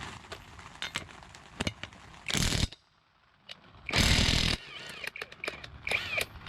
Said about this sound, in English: Now you can unscrew the nut.